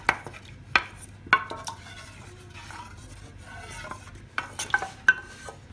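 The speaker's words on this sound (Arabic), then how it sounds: "نذوب المايزينا تاعي في كاسرونه مع الماء" Cornstarch being stirred into water in a pot, with a few sharp scraping and clinking knocks of a utensil against the pot near the start and end and softer swirling between, close and fairly quiet.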